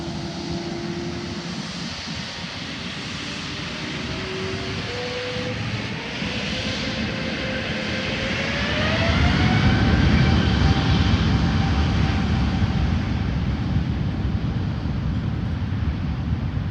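China Eastern Airbus A350 jet engines building to a takeoff roar, with a rising turbine whine over a broad rumble that grows steadily louder and stays strong as the aircraft passes close by.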